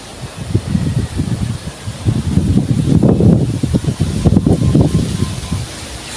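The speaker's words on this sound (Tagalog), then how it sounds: "Hangin." Strong gusting typhoon wind roars and buffets the microphone in uneven surges, building louder toward the middle, with no voices.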